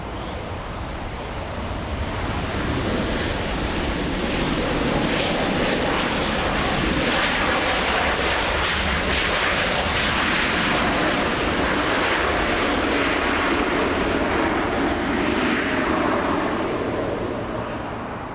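A Delta Airbus A321neo airliner arriving from Atlanta at Los Angeles International Airport, its engine roar swelling to a loud, steady rumble and broad rush that holds for most of the pass before easing slightly at the end.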